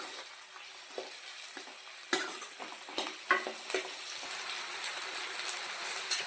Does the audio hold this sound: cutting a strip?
no